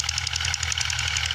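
A tractor engine runs steadily in a field while working the soil with a leveling plank for fodder sowing, giving a loud, rhythmic chugging with a deep low drone, close by and without talk.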